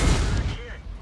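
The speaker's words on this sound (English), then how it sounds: "I just got hit by an HE shell from the T49." An HE shell from a T49 strikes a tank in World of Tanks, a single booming blast at the start that fades into a short rumbling tail.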